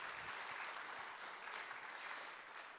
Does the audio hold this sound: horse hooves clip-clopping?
no